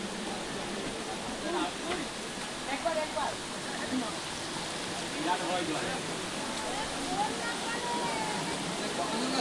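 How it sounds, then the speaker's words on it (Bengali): Bamni Falls waterfall in Purulia, a continuous broad rushing roar of falling water heard up close, steady throughout, with people's voices talking faintly beneath the noise. "কি সুন্দর ঝর্ণা।"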